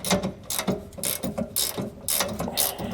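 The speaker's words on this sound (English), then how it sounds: "we are going to have to use two 9/16 inch wrenches." A ratchet wrench clicks in quick repeated strokes while tightening a bolt and lock nut with two 9/16 inch wrenches, installing a jack stabilizer kit on a 2022 Jayco Jay Feather travel trailer; close, steady bursts of ratcheting.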